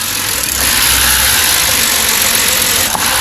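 A misfiring car engine idles roughly with a loud, continuous uneven rumble and broadband mechanical noise close to the source, its tone shifting slightly partway through, with no talking.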